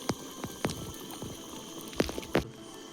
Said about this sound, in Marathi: तर चिकनला मस्त उकळी आली आणि आवाज पण मस्त येतोय